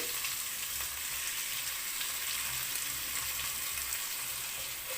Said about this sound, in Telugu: ఆయిల్ హీట్ అయిందండి ఇప్పుడు ఉల్లిపాయ పచ్చిమిరపకాయ క్యారెట్ అన్నీ ఒకసారి వేసేసుకోవాలండి